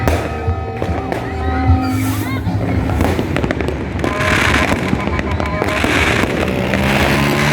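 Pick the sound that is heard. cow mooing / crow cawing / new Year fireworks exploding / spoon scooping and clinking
new Year fireworks exploding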